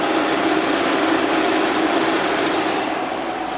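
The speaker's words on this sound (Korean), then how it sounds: "엔진 소음 먼저 들려드리면은" Imported sedan's engine idling with the hood open, a steady even hum without pauses, loud and close, with no talk over it.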